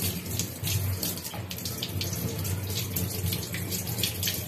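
Tap water runs steadily into a sink while a barracuda fish is washed, a soft, continuous splashing with small drips and spatters, fairly faint and close.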